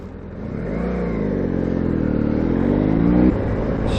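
A BMW F800GS motorcycle ridden through Brighton streets, its engine revving up in a rising, loud drone that climbs steadily, then cuts off abruptly near the end, with no voices.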